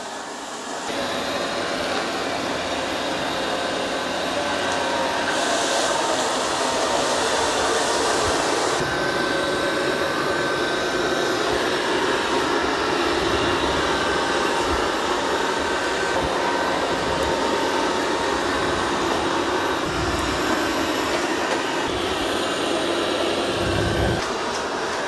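Dreame robot vacuum and mop working over muddy paw prints on a floor, a continuous loud motor hum and suction whir with brief shifts in pitch as it moves, with no talking.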